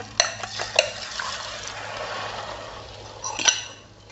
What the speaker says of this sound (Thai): กระทะร้อนแล้วนะคะ เราก็ทำการเจียวเลยนะคะใส่ใส่ไข่ลงไปนะคะ